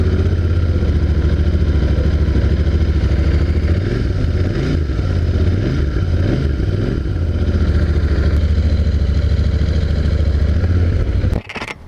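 A Royal Enfield Continental GT 650 twin-cylinder motorcycle runs steadily while being ridden in Goa, its deep, loud engine rumble continuous and close, rising and falling slightly with throttle before a sudden clunk at the end.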